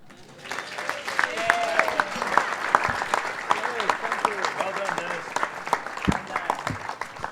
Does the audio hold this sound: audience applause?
yes